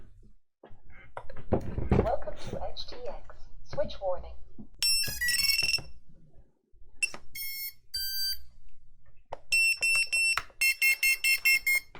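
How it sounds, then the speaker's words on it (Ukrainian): Loud whooshing and voices first, then a series of sharp electronic beeps and tone bursts from an FPV drone's flight controller buzzer in quick rhythmic groups, close and piercing. "Пищалка працює."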